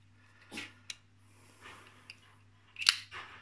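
A folding knife with a weak detent being pushed closed by finger, giving a few small, quiet clicks followed by one sharper snap near the end, with no talking.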